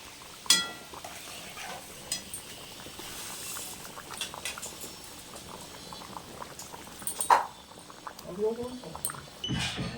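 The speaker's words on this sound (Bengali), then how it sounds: "ঝোলটা আমার ভালো করে ফুটে গেছে এর মধ্যে এবার আমি মাছগুলো দেবো" Pieces of fried pona fish going into a boiling fish curry, the thick gravy bubbling steadily with soft liquid plops and a few sharp utensil clinks near the end, while a voice speaks quietly over it.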